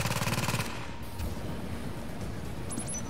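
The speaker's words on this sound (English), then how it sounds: "My turret's going to do all the damn work." A deployed turret fires in The Division, opening with a short rapid burst of automatic gunfire that then gives way to a rumbling combat backdrop with scattered distant shots, loud and close.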